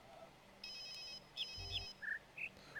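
A telephone rings inside the puzzle video game The Witness: a quiet electronic ringtone of short repeated high chirps and tones in a sparse pattern, faint against a soft background hiss.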